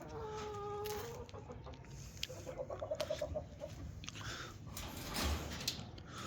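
Adler breed chickens cluck in a quick run of short, soft notes, preceded by a brief crowing call, set against a low, steady farmyard hum.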